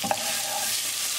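Garlic and ginger hitting hot oil while ground bison keema cooks, a sharp burst of sizzling that settles into a steady hiss over a brief moment, close up and alone.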